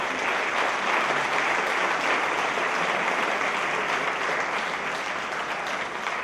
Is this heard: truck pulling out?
no